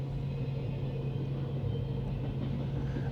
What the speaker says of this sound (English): When you see 5 locomotives pulling a train, this is going to be a long ass train.